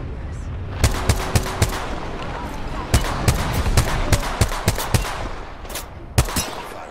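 Gunfire in Apex Legends, a series of sharp single shots and short bursts spaced irregularly over steady background game noise, fairly close and loud.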